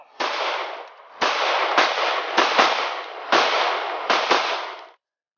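Airsoft guns firing in bursts during a mock zombie hunt outdoors, a series of sharp cracking volleys in close succession, loud and near, with no talking.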